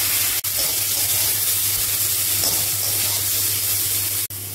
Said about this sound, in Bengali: এই দেখুন বন্ধুরা, তেলটা গরম হয়ে গেছে। এবার এর মধ্যে খেজুর আর আপেল করে দিয়ে দিলাম।